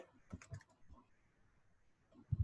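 Quiet bursts of keystrokes on a computer keyboard, typing code in Visual Studio Code, come as a quick flurry of clicks, then a few scattered taps and a louder pair of hits at the end.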